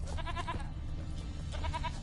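A goat in The Witcher 3 bleats in two drawn-out, wavering calls, close and clear over a steady low game ambience, with no talk.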